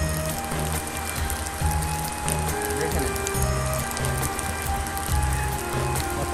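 Rain falls at the Bangladesh National Zoo as a steady, dense hiss and patter that continues throughout, layered with a low droning hum and faint background voices.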